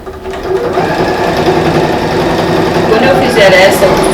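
A sewing machine stitches fabric for a pleated school pencil case, a steady close mechanical whir running throughout, with someone speaking over it.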